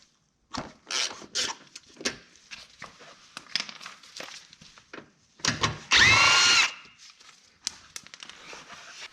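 Power tool, likely an impact driver or drill, removing bolts during an intake install on a Highball, with short repeated whirring bursts and one longer, louder sustained run near the end, amid handling clatter.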